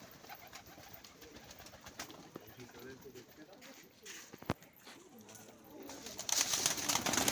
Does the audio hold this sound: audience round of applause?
no